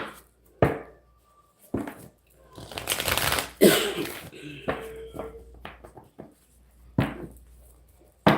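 Tarot cards being shuffled and swapped out, with several crisp riffles and rustling slides, sharp slaps of cards set down between them, and faint movement close to the listener.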